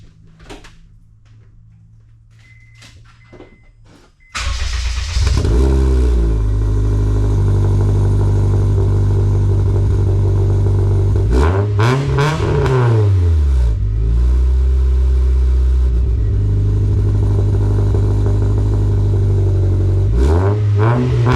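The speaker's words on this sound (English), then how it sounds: "Time to start it. I'm hoping it's A, not too loud, B, not too raspy." A car engine with a new exhaust cranks and fires at about four seconds, then settles into a loud, steady, raspy idle with a couple of revs rising and falling mid-clip. Heard up close, with no talking.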